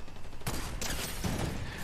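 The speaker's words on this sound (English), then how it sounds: "I'm trying to snipe non-moving targets." Gunfire in a Fortnite D-Day map crackles in two quick faint bursts of several shots each, a distant volley rather than a single clean sniper crack, with no talk.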